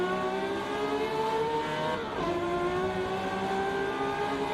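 A 1970 Ferrari 512S race car in the Assetto Corsa game on the 1967 Nurburgring GP circuit, its engine droning loudly and steadily at high revs with a short dip and pitch shift midway.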